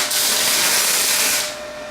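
MIG welder tacking steel for an RX8 tow bar, a single close, loud sputtering hiss lasting about a second and a half before cutting off to quieter background.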